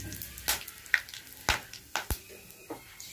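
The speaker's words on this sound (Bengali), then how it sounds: "ফোড়নটা ভাজা হয়ে গেছে" Whole spices for a tempering, including chillies and cumin, fry in oil with a low sizzle punctuated by distinct spatters and scraping stirs at uneven intervals, close by and without speech.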